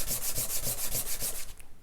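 Rapid back-and-forth sanding strokes rasp across flat wood inlay pieces on a flat surface, about a dozen even rubs in quick rhythm before stopping.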